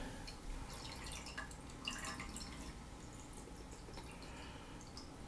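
Water drips off a Barbie Color Reveal Rainbow Galaxy doll as she drip-dries, scattered soft drips and trickles, very quiet and close, with no talk.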